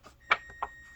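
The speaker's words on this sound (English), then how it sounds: "I had a timer set for something" A timer alarm gives a couple of short, thin electronic beeps over about a second, quiet and somewhat distant, with a faint steady tone lingering beneath.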